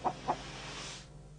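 Chickens give two short, clear clucks close by in quick succession, followed by a soft, steady background hiss with no further calls.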